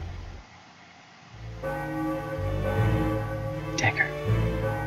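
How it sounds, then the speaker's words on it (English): A church-style bell in the Final Fantasy IX video game rings in the theater district area and sustains alongside game music. A voice speaks faintly. "The bell's ringing."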